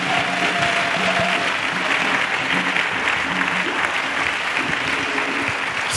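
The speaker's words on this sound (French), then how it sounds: "Let's clap for Jesus Christ." Sustained applause from a church congregation clapping for Jesus Christ, dense and steady from start to finish, with faint voices mixed into the crowd.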